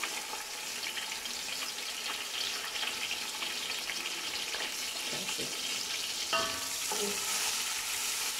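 Garlic and green chili paste fry in a pan with a soft, steady sizzle, a few faint clinks of a utensil near the end.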